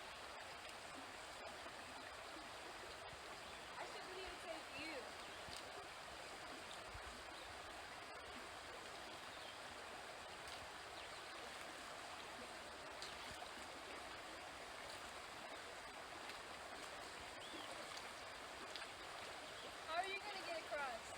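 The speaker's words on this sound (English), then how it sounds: "Another river crossing." A river rushes at a hiking trail crossing on the Appalachian Trail in Maine, a steady broadband wash of flowing water that continues unbroken throughout, with faint background talk.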